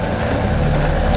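A helicopter's steady engine drone and rotor thrum fill the short stretch, loud and continuous, with no voices.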